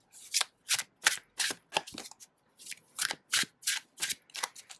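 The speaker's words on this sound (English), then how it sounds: "shuffle." Tarot cards from the Heart and Hands deck being shuffled by hand, about a dozen crisp papery riffling bursts in an uneven rhythm, close and clear with no talking.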